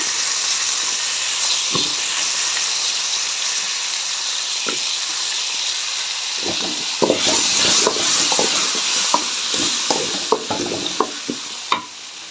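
Three chopped tomatoes hit hot gravy in a pan for a Rayalaseema-style hotel curry, giving a steady loud sizzle and hiss, with scattered clinks and scraping of stirring toward the end.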